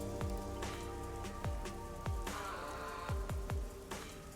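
Steady rain patters down across a neon-lit city district in Master Detective Archives: Rain Code, a constant wash of drops with scattered heavier splashes and low thuds, no voices over it.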